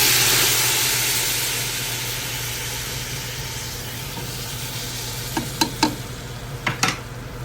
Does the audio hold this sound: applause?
no